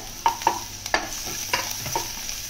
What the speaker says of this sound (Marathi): त्याका सुद्धा आपण तेलात व्यवस्थित परतवूया.